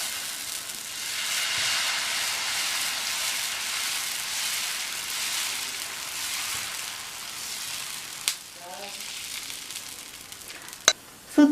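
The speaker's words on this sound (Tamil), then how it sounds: "தோசையை ஊற்றிடலாம்." Dosa batter is poured onto a hot griddle, setting off a soft, even sizzle that slowly fades, followed by a few sharp clicks and scrapes near the end.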